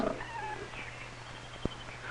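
A faint cat meow rises briefly near the start over a low steady hum, with a short sharp knock later on.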